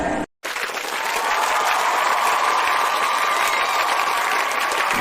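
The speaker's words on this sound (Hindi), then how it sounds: "संजय फ्रॉम झारखंड जोरदार तालियां 159" Loud audience applause at an Indian event, a dense, steady roar of many hands that holds near and full for several seconds after a brief break at the start.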